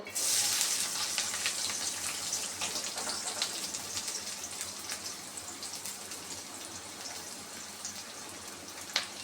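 Chopped onion, garlic and green chillies sizzle in hot oil for fried Malabar spinach, a dense, crackling hiss that runs steadily throughout and eases slightly toward the end, with no talking.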